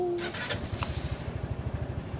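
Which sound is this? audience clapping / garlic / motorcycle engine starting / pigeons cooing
motorcycle engine starting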